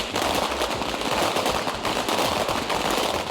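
Continuous rapid gunfire at the Jackson Police Department shooting range during a national police shooting championship, dense overlapping shots with no pause.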